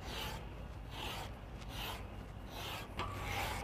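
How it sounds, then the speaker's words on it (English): A rasp is drawn across the top edge of an autoclaved aerated lightweight concrete wall panel, cutting a V groove; repeated rough scraping strokes follow one another steadily, fairly close and alone. "by using a rasp and just running it across"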